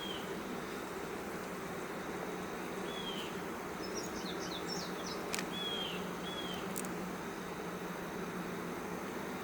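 Honey bees buzz steadily around queen cages at a queenless hive, a low continuous drone with a few sharper chirps and faint outdoor background, no talking.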